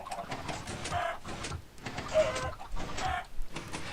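Chickens clucking in a Minecraft Skyblock automated chicken cooker farm, several short bursts of clucks and squawks following one another in uneven rhythm, close and fairly loud with no talking.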